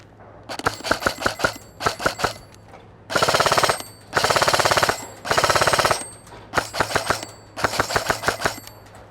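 An EMG Helios F4-15 ARS-L airsoft electric rifle firing in close, loud bursts: short rattling strings of rapid shots alternate with three longer sustained bursts, each burst separated by brief pauses.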